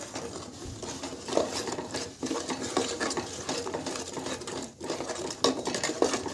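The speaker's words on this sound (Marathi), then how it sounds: "आता याला मस्तपैकी आपण परतून घेऊ" Food being stirred and sautéed in a pan for a New Year's Eve dish, with a steady sizzle and irregular scraping and clinking of a spoon against the pan, fairly close, with no one talking.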